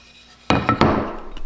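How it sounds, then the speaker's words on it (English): A wooden handle being driven into a wooden mallet head: a few sharp, close knocks in quick succession, the first loudest, with a fainter tap near the end. "that's how we do this step of inserting the handle into your hammer"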